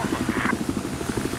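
Helicopter in the Battlefield 4 video game, a fairly quiet rhythmic rotor thump throbbing steadily throughout under a brief higher engine whine.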